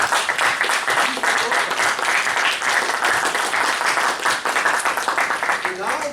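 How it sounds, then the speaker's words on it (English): Audience applause after a call for a big round of clapping at a club meeting, dense and steady for several seconds, with voices mixed into the crowd noise. "You have to give a big round of applause."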